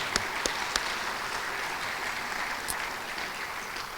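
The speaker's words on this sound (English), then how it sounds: "So let's applaud for everybody who works to make our students successful." An audience at a president's address applauds, with steady, moderately loud clapping and a few sharper individual claps standing out near the start.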